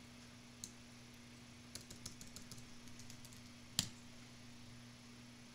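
Keys tapped on a computer keyboard, a sparse run of faint clicks with a louder single keystroke toward the end, over a steady low electrical hum.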